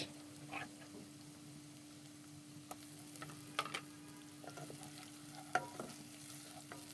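Spices for shrimp bhuna sauté in a pan with onion and ginger-garlic paste, making a faint, low sizzle broken by sharp scrapes and taps of stirring.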